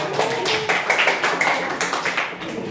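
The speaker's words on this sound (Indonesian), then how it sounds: "terima kasih, tepuk tangan semuanya" A short burst of applause, many hands clapping together in a classroom for a few seconds.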